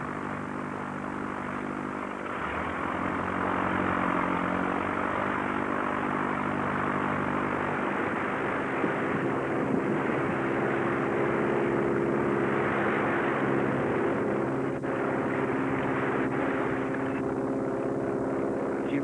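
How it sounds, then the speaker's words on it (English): Loud propeller engines of a flying boat drone and rev up one by one before takeoff at Southampton Water, the roar building after a few seconds and holding steady. "One by one, the engines are revved up as the plane prepares to leave."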